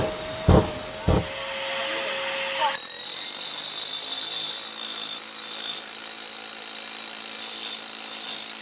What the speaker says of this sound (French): On démarre l'aspirateur et on envoie les images tout de suite.